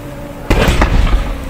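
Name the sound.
explosions from burning crashed vehicles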